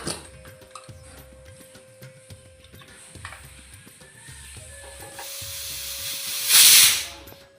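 A pressure cooker holding jackfruit and potato in salted water lets out a loud, rising steam whistle and hiss near the end, over a steady mechanical ticking rattle that repeats through the whole stretch.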